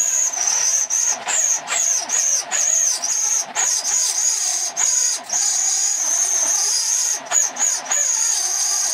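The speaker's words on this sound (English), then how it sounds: "I'm going to run through carefully with it with a 7mm and take out as much of that debris as I can" An old broken bolt being drilled out of an M8 thread with a 7mm drill on a gear lever repair, the drill whining steadily for about nine seconds and pausing briefly now and then as the bit bites.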